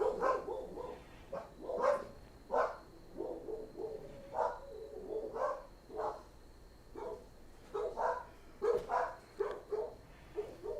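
Several dogs bark in repeated short volleys, moderately close, with brief yips between bursts and pauses of quiet; no one speaks.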